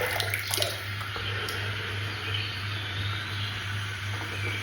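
Water runs and splashes as it is added to a shaving lather, a steady, close trickle with a low hum behind it.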